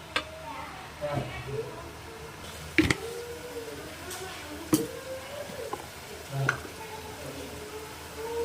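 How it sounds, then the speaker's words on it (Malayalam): Pan sizzling and stirring as onions and green chilies are sautéed with a pinch of salt for green chicken, soft frying hiss broken by a few sharp scraping clacks of a spatula, with a person talking over it. "നന്നായിട്ടൊന്ന് വഴന്ന് വരണം. അതിനൊരു ഇത്തിരി ഉപ്പിട്ട് കൊടുക്കാം."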